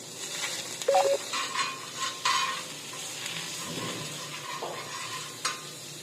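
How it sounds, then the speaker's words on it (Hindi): Butter sizzles and fries on a hot tawa while chicken tikka is cooked at a camping stove, a close steady hiss with scraping stirs and occasional clinks of a metal utensil against the pan. "देखें तवे पे मैं थोड़ा बटर डाल दूँ।"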